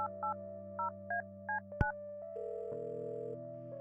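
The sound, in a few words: telephone number being dialed in video game Kathy Rain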